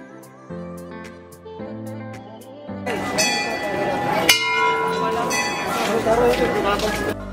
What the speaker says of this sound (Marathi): तर ही घंटा 6 टन वजनाची आहे असं इथल्या लोकांनी मला सांगितलं।